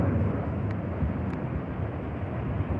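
A Philippine Airlines airliner goes past at an airport, a steady broadband jet roar heard from a distance, with no voices.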